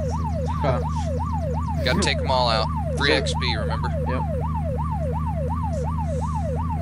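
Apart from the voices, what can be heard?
vehicle siren in the video game Unturned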